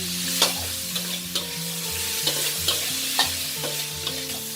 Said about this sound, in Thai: เราจะผัดคั่วด้วยไฟแรงนะ